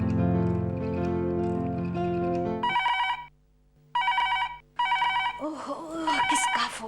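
A telephone rings in three evenly spaced bursts after a loud musical passage, each ring a bright repeated trill; voices come in at the end.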